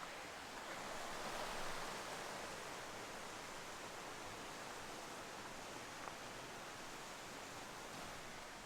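Tiny waterfall only inches high on a hiking trail, a soft, steady rush of falling water heard faintly and alone throughout.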